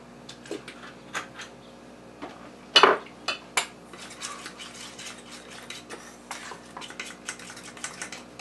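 Cream being mixed into pumpkin batter in a bowl, with soft scattered scrapes and taps of a utensil and one sharper clink near the middle, close and quiet, no talk.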